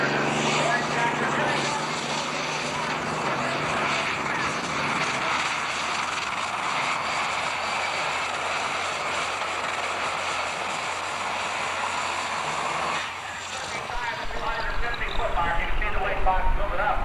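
A big pulling tractor at a 1988 grand national tractor pull at Cayuga Speedway roars loudly and steadily in a broad, dense engine drone, with an announcer speaking over it, then swells louder near the end.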